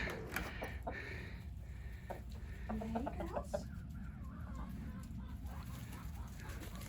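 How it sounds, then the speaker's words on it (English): Backyard chickens in a North Texas garden cluck and chatter in scattered short calls, moderately close, over a steady outdoor hiss with occasional other birds. "we're over at the chickens. They're gonna get a quick treat."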